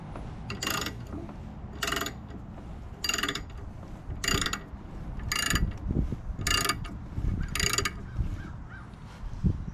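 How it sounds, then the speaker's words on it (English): A ratchet wrench clicks on a bolt of a John Deere 35D excavator needing repair, in regular bursts of rapid pawl clicks about once a second, close and clear over low outdoor rumble. "I think I'll get a ratchet so I don't wreck anything."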